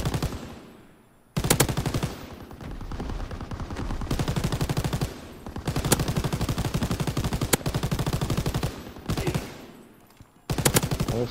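Rapid automatic gunfire in Call of Duty WW2 during a bank defense fight, loud sustained bursts of machine-gun fire repeating in several long strings separated by brief pauses.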